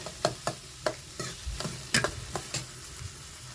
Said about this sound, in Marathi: आता कांदा टाकते त्यामध्ये कांदा चांगला परतून घेते